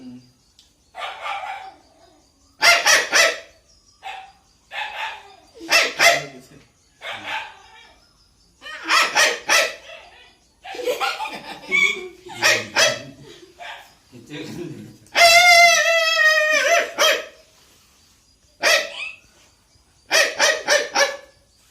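A voice imitates a dog's barking, giving repeated sharp bark-like bursts in irregular groups with pauses between them, close and fairly loud.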